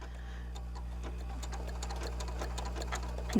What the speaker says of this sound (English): we'll stitch this next